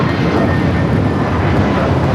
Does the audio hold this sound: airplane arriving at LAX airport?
yes